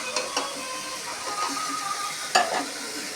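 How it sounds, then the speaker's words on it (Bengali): Garlic frying in oil in a pan over a full gas flame, a continuous near sizzle broken by spatula stirring and a louder clack of utensil on pan near the end. "রসুন ভাজা হয়ে গেছে"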